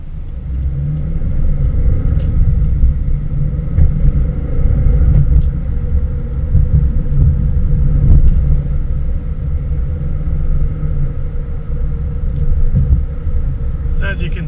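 A car is driven using a PME Ghost Ring hand control, with a steady low engine rumble and road noise that holds evenly throughout, close and fairly loud.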